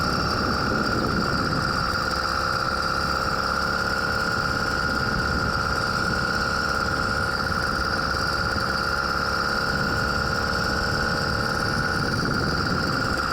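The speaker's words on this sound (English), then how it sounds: "The bike seems to be running good today." Steady close drone of a 100cc two-stroke motorized bicycle engine running continuously, a buzzy constant tone with no pauses, loud and alone.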